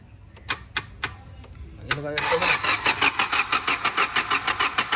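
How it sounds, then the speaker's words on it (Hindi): A few sharp clicks precede a Hyundai Creta diesel after injector repair cranking and catching, then settling into a rhythmic, clattering idle close by. "अभी गाड़ी को स्टार्ट करके देखेंगे।"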